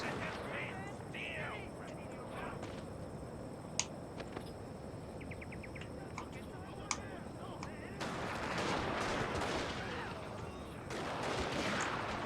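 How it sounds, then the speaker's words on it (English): Rifle fire from a Satsuma versus Nagaoka battle in Shogun II: Total War, with a few sharp distant cracks over a dense, continuous battle roar that swells later, while someone talks. "And they're going to snipe them with their rifles, and Nagaoka is going to stand there"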